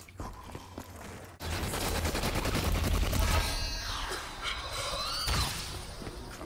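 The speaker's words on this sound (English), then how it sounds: "Wanna try out my new gun?" A newly bought gun firing in the Kino der Toten zombies map, a sustained loud barrage of rapid shots with crashing impacts, lasting several seconds under occasional voices.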